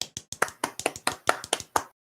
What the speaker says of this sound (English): So everybody claps for Limerick